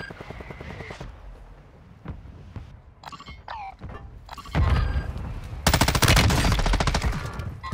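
Video game shootout gunfire: scattered single shots early, then heavy sustained automatic bursts building into a loud, dense barrage near the end.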